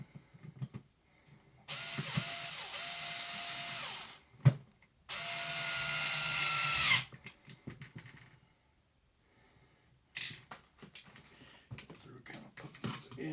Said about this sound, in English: we are screwing the 2 chassis halves together now.